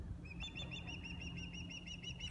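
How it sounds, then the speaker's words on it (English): A seabird in a nest in Baja cries repeatedly, a rapid series of short, evenly spaced high calls over a low background rumble of wind or surf. "Here's Mama over here in this nest crying, "Please, I'm hungry. Bring the food.""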